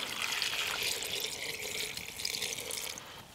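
Water pours steadily into a cooking pot at an outdoor campfire, prepared alongside beef stock for a pressure-cooker Christmas stew, giving a close, bright splashing rush for about three seconds before easing off slightly.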